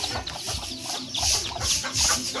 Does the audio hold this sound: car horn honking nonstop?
no